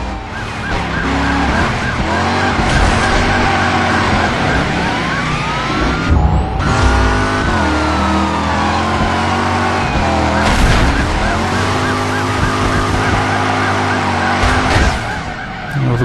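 Cars racing and chasing in Driver: San Francisco, a cop car pursuing a getaway Mustang, with loud continuous engine roar, tire skids and siren-like wails throughout.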